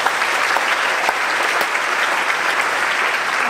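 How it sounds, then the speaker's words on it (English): A school concert audience applauds staff from the middle and high school, steady dense clapping filling the room without a break, fairly loud and even throughout. "A round of applause for our staff at the middle school and high school."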